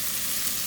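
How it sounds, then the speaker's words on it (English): Onions sizzle in olive oil with garlic at the start of an okra and tomato stew, a brief, steady, close hiss of frying with no talk over it. "You hear the sizzle?"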